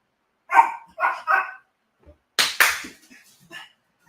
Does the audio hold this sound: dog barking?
yes